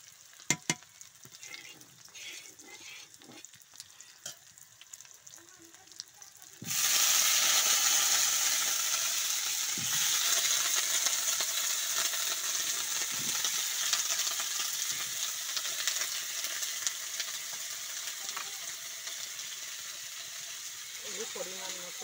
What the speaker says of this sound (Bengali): এক সাইডে আমি আলু কাটা একটু ভেজে নেব